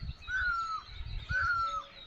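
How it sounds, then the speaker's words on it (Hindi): Morning birds chirp outdoors in two drawn-out, fairly clear calls over faint low background noise. "सुबह होते ही चिड़ियाएँ चहचहाने लग जाती हैं। इनका सबसे ज़्यादा शोर शराबा रहता है, आप लोग सुन ही रहे होंगे इस समय।"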